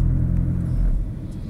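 Traffic rumbling past on a highway roadside in the provinces, a steady low drone of cars that stays close and fairly loud throughout, softening slightly near the end, with no talk.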